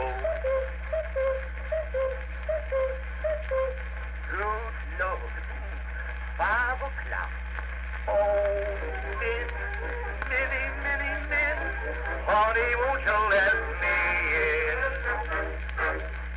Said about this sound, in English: That was an early-day Eddison Cylinder recording from our Frank Stringer collection.